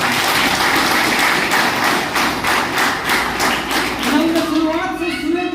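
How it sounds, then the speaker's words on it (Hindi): An audience in a hall applauds loudly, a dense steady wash of clapping with rhythmic thumping beats running throughout, and a voice rising over it near the end. "एक बार इनके लिए जोरदार तालियां।"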